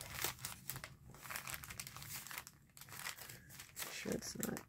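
Paper of a handmade paper-bag journal is folded and handled close by, giving soft crinkles and crumpling rustles in short bursts, with low speech at times.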